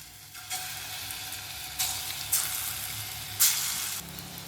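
Small balls of green gram batter sizzle in hot oil, a steady frying hiss broken by several louder crackling bursts as more pieces drop in, with no one talking.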